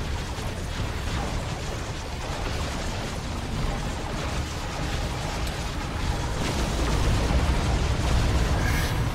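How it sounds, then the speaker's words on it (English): Strategy game battle with Banshees and Death Dreads: a dense, continuous rumble of explosions and mechanical clatter, loud throughout and swelling slightly toward the end. "Get some explosions off this time."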